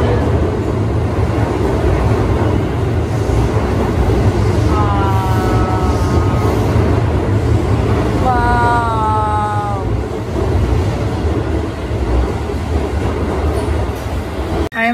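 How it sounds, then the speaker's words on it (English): A train pulls into a station with a steady, loud rumble the whole way through, and bright squealing wheel tones rise twice partway in. "Oh, the train!"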